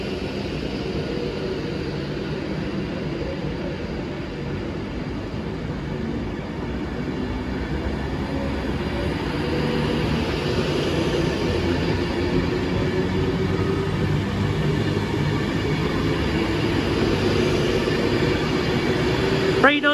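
Avanti West Coast train passing through Nuneaton, a steady rumbling roar that swells louder in the second half, with voices talking over it.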